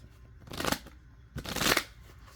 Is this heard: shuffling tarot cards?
yes